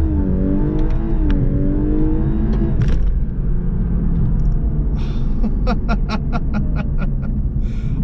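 A 2019 Lexus LC500h hybrid in Sport Plus, manual mode, revs hard after downshifts: a loud, continuous engine roar rising in pitch, with a string of rapid sharp rev blips near the end.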